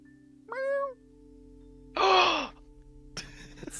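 A cat meows twice, two drawn-out, fairly clear cries about a second and a half apart, followed by a brief rustle against a low steady hum.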